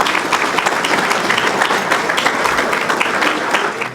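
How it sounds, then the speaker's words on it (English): A crowd at a county sports Hall of Fame induction ceremony gives a loud, sustained round of applause, a dense wash of clapping that holds steady for about four seconds before easing off at the end. "how about a round of applause?"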